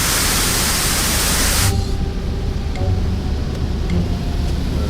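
A loud, steady hiss of a pressure washer jet spraying continuously, its tone dulling partway through as the spray shifts.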